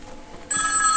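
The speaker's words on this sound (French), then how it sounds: "Ça sonne, attention téléphone." An old telephone bell inside a 2CV museum in Troisfontaines, Lorraine, starts abruptly and rings loud and sustained with a bright metallic tone, following a brief quiet stretch.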